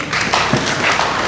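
Members at a plenary session of the Bali provincial parliament (DPRD) applaud in a short, dense burst of clapping that stays loud and even throughout.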